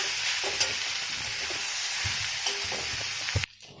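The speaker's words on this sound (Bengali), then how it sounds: "ভালো করে তাকে মশলার সাথে কষে নেবো।" Fish and potato sauté with spices in a pan, giving a steady sizzle with occasional stirring clinks and knocks, cutting off abruptly near the end.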